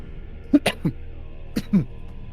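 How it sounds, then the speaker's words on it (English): A few short coughs and throat-clearing bursts from a person at a tabletop Dungeons & Dragons session, close and fairly quiet, spaced irregularly over a faint background. "Sorry for my coughing."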